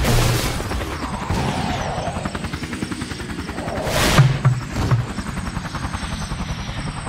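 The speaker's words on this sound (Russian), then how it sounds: "Там еще один вертолет!" A cartoon helicopter in a children's animated show flies with a rapid rotor chop, accompanied by heavy crashing and booming impacts midway, fairly loud with no talking.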